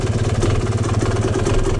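A Yamaha YZ250 two-stroke dirt bike engine running rich after a jetting change, caught in a brief, steady burble at idle, close up.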